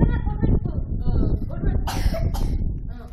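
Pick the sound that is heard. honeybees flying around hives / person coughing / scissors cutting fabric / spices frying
person coughing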